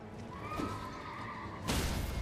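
A horse in Elden Ring gives a single clear neigh, followed by a sudden louder burst of game noise at the end.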